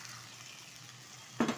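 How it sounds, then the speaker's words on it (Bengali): A little water splashes into a pan of lote dried fish curry with flat beans, eggplant and potato, bringing a sudden loud sizzling burst over a soft steady frying hiss, with no one talking. "এখন এর মধ্যে দিয়ে দেবো খুব সামান্য পরিমাণে একটু জল"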